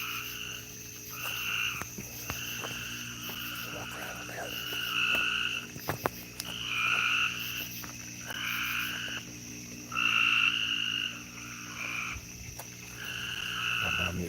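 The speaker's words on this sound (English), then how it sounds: "Now, here we are with the frog band." A chorus of frogs croaks in repeated rising bursts over steady night insect trilling, loud and close, with pulses recurring every couple of seconds throughout.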